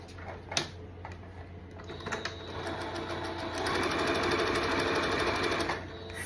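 Sewing machine stitching a reversible tote bag, a steady mechanical whir that builds to a louder, continuous run of rapid stitches in the second half, close by with no talking.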